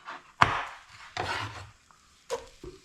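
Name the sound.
knife chopping pepper on a wooden board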